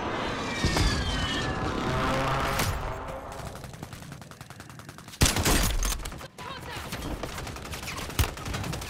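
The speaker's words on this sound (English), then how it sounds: "Friendly precision airstrike inbound." Heavy gunfire and explosive blasts rattle through a Call of Duty battle as a precision airstrike hits, with aircraft roar in the mix, sharp loud bursts and dense crackling volleys throughout.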